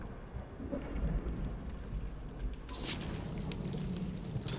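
Stormy weather in the video game Marvel's Guardians of the Galaxy on Xbox Series X: steady heavy rain with low rumbling thunder, then a sharper, brighter burst of downpour and crackle midway, with no voices.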